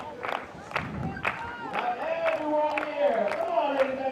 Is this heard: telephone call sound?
no